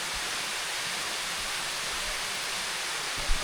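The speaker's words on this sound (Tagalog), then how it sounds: "ito yung bumabagsak na tubig dito" Water falls into a lagoon in the middle of a forest, making a steady, even rushing hiss that carries on unbroken, with no voices.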